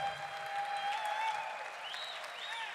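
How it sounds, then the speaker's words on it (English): Audience at the International Blues Challenge final round giving a round of applause for an award winner, dense continuous clapping from a crowd at a moderate distance with a few faint cheers mixed in. "So let's have a little round of applause for that."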